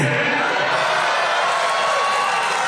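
A political rally crowd applauds in a steady, dense roar of clapping and cheering that stays loud and unbroken for the whole span.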